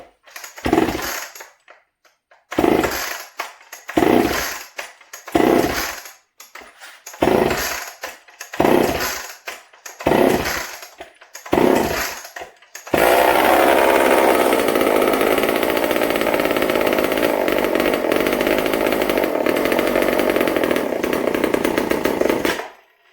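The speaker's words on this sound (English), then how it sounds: "Let's see if we can get this all running." A Homelite XL76 chainsaw is pulled over about eight times in sharp, separate bursts, then fires and runs continuously at a loud, steady roar for the remaining ten seconds, close by with no talking.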